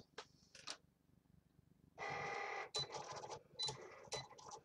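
Cutting machine drawing with a red precision pen, with short mechanical whirs and a longer buzzing motor run followed by stuttering carriage movements, close and quiet.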